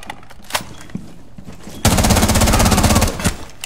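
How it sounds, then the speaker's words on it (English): Rainbow Six Siege gunfire: a few scattered shots, then a sustained automatic burst of rapid, loud, evenly spaced rounds lasting nearly two seconds before tapering off with a couple more shots. "I see gunfire from behind."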